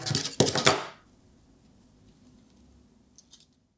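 Scissors trim the tulle tail of a bachelorette party veil with a quick cluster of close, crisp snips, followed by quiet and a couple of faint clicks.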